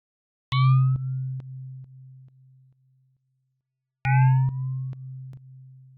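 Two plucky synth notes from the Opal Max for Live device, each opening with a bright chirping sweep and then pulsing through a slowed LFO that steps the level down in fading throbs, with a gap of silence between them.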